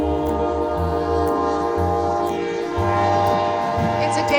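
An Amtrak passenger train with sleeper cars sounds its horn in long, loud, layered blasts over the rumble of the moving cars, close by and continuous throughout.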